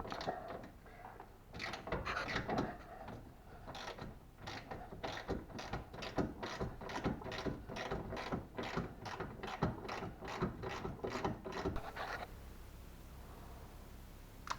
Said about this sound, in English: These A-arm bolts are super tight, so we're gonna spend a little time breaking these loose here.